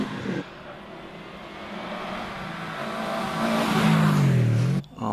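A 19-year-old Subaru rally car with over 200,000 miles climbs Prescott hill, its engine note rising and loud as it accelerates past, then cutting off abruptly near the end.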